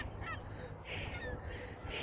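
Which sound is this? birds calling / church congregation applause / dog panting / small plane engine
birds calling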